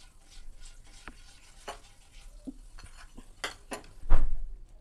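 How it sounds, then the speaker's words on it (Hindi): Butter melts in a hot pan on a gas stove, with a soft sizzle and scattered scraping taps as it is spread around, ending in a louder clunk of the pan. "इस पर मैं बटर डाल दूँगी और इस तरीके से फैला दूँगी"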